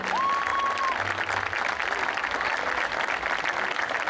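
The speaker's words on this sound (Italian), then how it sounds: "ancora un applauso, bravissimi ragazzi" A crowd applauds a folk quartet at the end of a live performance in Mussomeli, Sicily, a continuous, even clapping that runs through the whole stretch, with a brief whistle near the start.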